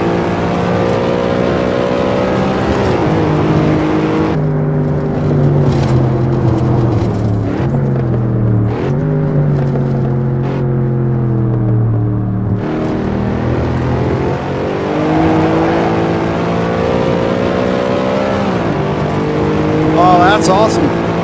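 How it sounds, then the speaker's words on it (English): Modded Cadillac CTS-V in the racing game Assetto Corsa doing a no-lift upshift: loud sustained engine drone rising in pitch through the gears, with abrupt shift breaks, while someone talks over it. "I'm going to try that up here on the upshift and see if it works"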